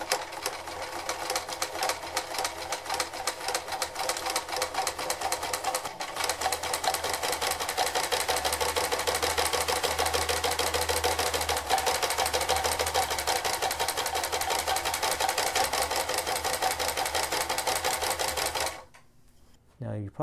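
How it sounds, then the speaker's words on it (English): A sewing machine runs steadily, stitching along the seam of a fabric juggling ball with a dense mechanical whir, then it stops near the end. "we just go right along the line like so, and we start sewing"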